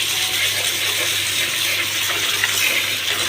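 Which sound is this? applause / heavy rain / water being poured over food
water being poured over food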